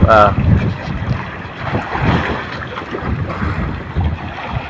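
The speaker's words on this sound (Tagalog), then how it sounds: "Medyo mahangin, master." Gusty wind buffets the microphone over open sea from a fishing boat, with a steady rushing roar and a brief tonal whine at the start.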